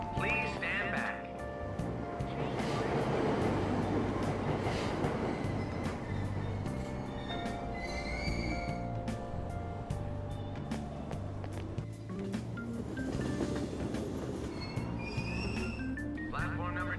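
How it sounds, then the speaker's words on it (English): A train departs from a station platform in Persona 5 Royal, with a steady rumble and clattering under a recorded platform announcement and bright chime-like tones that ring out over the continuous noise. "Platform number 2, service to Asakusa is departing soon."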